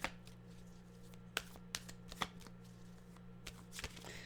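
Tarot cards being shuffled by hand, a quiet close riffle with scattered sharp flicks and taps over a low steady hum, without speech.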